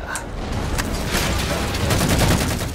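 Railgun fire shooting down Phantom dropships in Halo 4, heard as a loud, dense burst of booming shots and crackling impacts that rolls on continuously for a few seconds.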